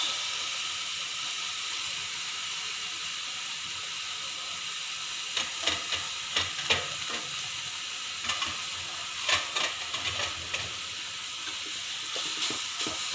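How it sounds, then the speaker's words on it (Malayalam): Chopped stinging nettle leaves sizzle steadily in a hot pan, a continuous hiss broken by a few sharper crackles and stirring clicks near the middle and end. "ഇനി നമ്മളിതിലോട്ട് നമ്മൾ അരിഞ്ഞ് വെച്ചിട്ടുള്ള കൊടിത്തൂവ"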